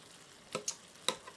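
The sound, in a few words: spatula stirring ground beef frying in a pan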